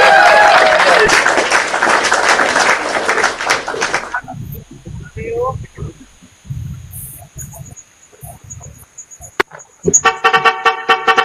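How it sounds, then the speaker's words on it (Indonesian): Congregation applause at a church sermon: a dense, steady burst of clapping for about four seconds, then it breaks off into quieter scattered sounds and a voice. "Coba tepuk tangan untuk Tuhan."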